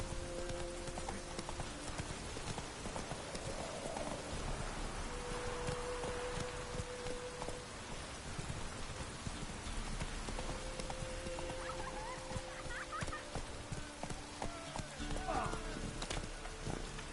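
Roach, a horse in the video game Witcher 3, gallops in steady, soft clip-clop hoofbeats that run the whole way through, faint and constant, mixed with a rain-like patter and occasional quiet game sounds.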